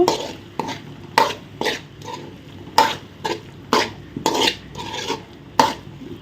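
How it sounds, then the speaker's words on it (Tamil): Potato pieces fry in masala on low heat, punctuated by repeated scraping strokes of a spoon against the pan roughly every half second, over a soft sizzle. "இப்போ இதே இந்த மசாலாவில் போட்டு நம்ம வறுக்கலாம்"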